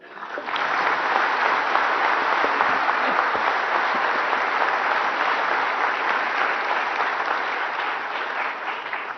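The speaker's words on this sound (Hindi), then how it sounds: "बच्चों के लिए तो थोड़ा ताली हो जाए" Sustained, dense applause from an audience at a national energy conservation award ceremony, a steady roar of many hands clapping for several seconds without a break.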